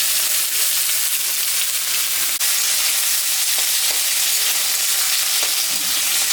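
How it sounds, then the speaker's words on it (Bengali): Dried chillies, cumin, bay leaf and onion sizzling hard in hot oil in a home kitchen, a loud, close, continuous hiss and crackle with a brief clink near the middle and no talking. "ভাজা তেলের উপরে শুকনো লঙ্কা, জিরা, সম্বরা দিব, তেজপাতাও দিয়ে দিব, পেঁয়াজটাও দিয়ে দিব"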